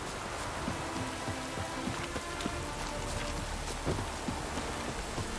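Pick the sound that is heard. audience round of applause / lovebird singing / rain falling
rain falling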